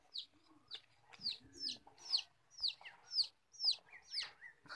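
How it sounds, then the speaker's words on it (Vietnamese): A hen clucks at dawn in a rustic Vietnamese highland yard, a series of close, rhythmic sharp clucks and short calls repeating about twice per second. "Ở trong này có thêm con gà mái nữa."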